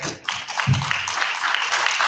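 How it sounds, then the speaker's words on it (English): A crowd applauds a workshop panel of attorneys, judges and sheriffs, a steady, fairly loud wash of clapping that fills the whole stretch, with a brief lower murmur of voices partway through. "just go ahead and give them a round of applause"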